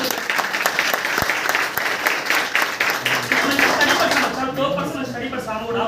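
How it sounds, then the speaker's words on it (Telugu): An audience at a speech event at IDPL applauds together, a dense burst of clapping that holds steady for several seconds before thinning out toward the end. "చాలా ప్రౌడ్గా అంటే కాబట్టి క్లాప్స్ ఇద్దాం."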